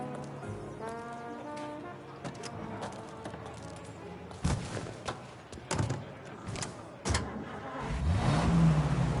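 A car's engine runs and revs under quiet dialogue, with door-like thumps and a rising engine whine near the end.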